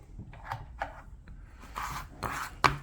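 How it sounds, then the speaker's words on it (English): Sandpaper rubbing over carved wood, a close book carving, in soft, uneven rasping strokes with brief scuffing bursts and a sharper scrape near the end. "We can just kind of hit it a little bit with some sandpaper, getting those areas."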